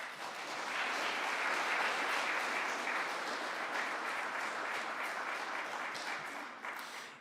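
Faint but steady applause from an audience gathered in a house of prayer, a long, even patter of many hands clapping from a distance.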